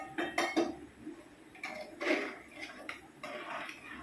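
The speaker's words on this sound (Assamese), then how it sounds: "এয়া দি দিলোঁ কুকাৰটোত।" Metal pot and utensil clatter as fried pulao rice goes into a pressure cooker in a home kitchen, several sharp clinks and scrapes in close, irregular bursts.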